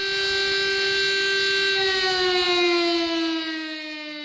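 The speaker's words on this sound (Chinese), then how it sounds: "南京全城拉响防空警报。" An air raid siren sounds across Nanjing during the national memorial ceremony for Nanjing Massacre victims. Its long, steady wailing tone holds loud and unbroken, then dips slightly in pitch and volume near the end, with no voices.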